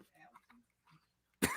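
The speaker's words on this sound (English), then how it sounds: "Somebody got to cough it out" A single sharp cough, close and loud, after a short stretch of soft murmuring speech.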